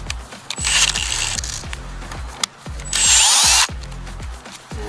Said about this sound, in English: just a little hand drill